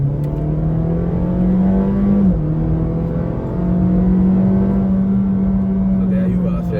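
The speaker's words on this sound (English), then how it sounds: "I did a rather unscientific hard acceleration test, and it's about 8 seconds from 0" 2014 Honda Fit GP5 under hard acceleration, the engine note climbing steadily in pitch, dipping briefly at a gear change and rising again, loud and close from inside the cabin.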